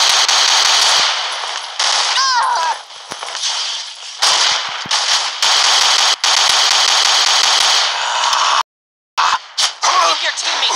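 Rapid bursts of automatic gunfire rattle through the Rival Fire video game battle in harsh, dense volleys with brief gaps between them, alongside metallic pings and clanks.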